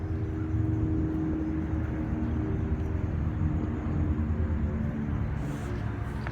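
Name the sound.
helicopter flying overhead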